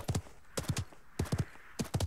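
A horse mount galloping in the Realm Royale video game, quick clusters of three or four hoofbeats repeating in a steady rhythm, fairly faint and alone.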